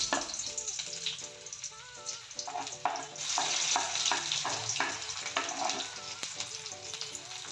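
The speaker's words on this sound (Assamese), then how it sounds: "তেলখিনি গৰম হৈ আছে, গতিকে মই লগে লগে পিঁয়াজ কেইটুকুৰ দি দিছোঁ" Onion pieces fry in hot oil with kalonji seeds, a dense crackling sizzle with repeated stirring scrapes and spatula taps across the pan, close and continuous.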